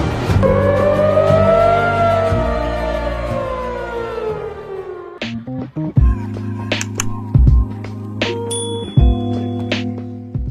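An air raid siren in Tel Aviv wails loudly, its pitch rising and then falling away over several seconds, followed by steady tones and scattered clanks and thumps.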